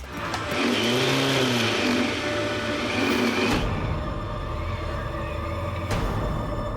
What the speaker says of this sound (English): the 800cc 2-stroke engine in my Sandex tearing up the sand